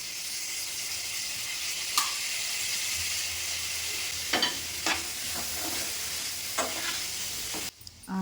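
Cardamom, spices and cashews fry in a pan with a steady, bright sizzle, close up, broken by a few soft scrapes and clicks from stirring.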